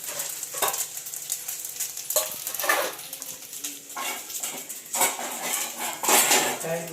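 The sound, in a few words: reheating yesterday's biryani in a pan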